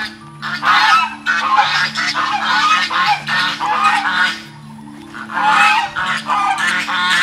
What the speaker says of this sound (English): The geese are noisy.